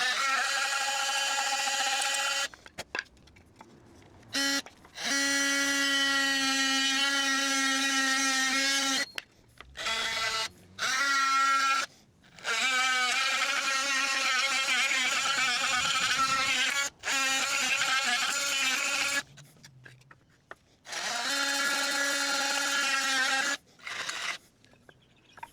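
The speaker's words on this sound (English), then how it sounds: "I'll just sand those edges down, make it neater." An electric sander smooths the edges of a wooden bee hotel, its whining motor starting and stopping in repeated bursts of varying length, close and fairly steady.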